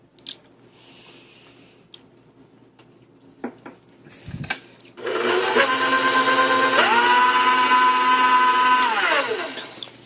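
An electric mixer beats chocolate chip cookie dough, whirring loudly and steadily close by after a few quiet bumps and clinks, its pitch dipping and rising as the load changes before it winds down near the end.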